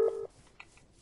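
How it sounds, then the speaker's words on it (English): A phone rings with an incoming call, a short steady electronic tone lasting about a quarter second, loud and close, followed by faint higher chirps in a quiet room. "Someone on stream's calling his phone!"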